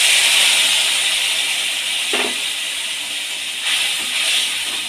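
Spice paste hits hot oil in a pan where bay leaves, sugar and cumin seeds are frying for a vegetarian teasel gourd and potato curry, giving a loud, steady broadband sizzle and hiss that swells again briefly toward the end.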